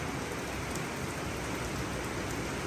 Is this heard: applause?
no